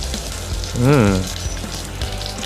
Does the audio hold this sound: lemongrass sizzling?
yes